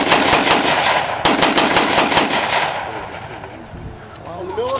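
Automatic gunfire from a WWII-era rifle fired off a bipod at an outdoor encampment, a dense, loud string of rapid shots for over a second and then another long burst, with a fading echoing tail and brief voices near the end.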